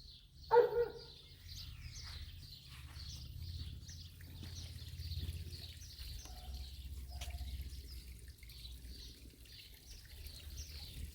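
A dog barking in a garden, one sharp bark near the start followed by quieter yaps, with birdsong and a trickle of water in the background.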